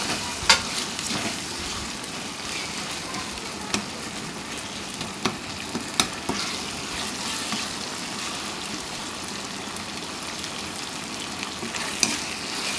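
Ginger garlic paste fries in oil with a constant crackling sizzle throughout, punctuated by occasional sharp pops and spatter bursts, fairly close and with no talking.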